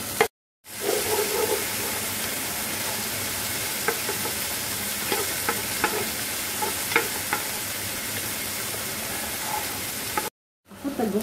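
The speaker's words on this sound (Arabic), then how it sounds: "أحط البصل وأشوحه مع البهارات مدة 3-4 دقائق" Onions sautéed with spices in a pot for meatball soup, a steady close sizzle with scattered scraping stirs, cutting out briefly at the start and end.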